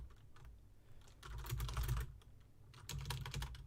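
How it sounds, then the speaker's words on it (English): Fast, clattering typing on a loud computer keyboard, keystrokes coming in quick bursts with brief pauses between, close and alone. "Sorry, my loud ass keyboard."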